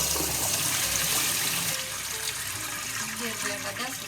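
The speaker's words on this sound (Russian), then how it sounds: "Просто нужно его хорошо промыть." Rice rinsed in water for plov, with a steady close splashing and trickling of running water while a person talks over it.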